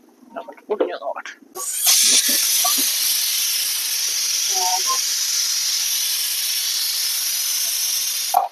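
A kitchen pressure cooker releases its pressure with a loud, sustained steam hiss as water is poured over it, starting abruptly after a moment of speech and clatter and holding steady to the end.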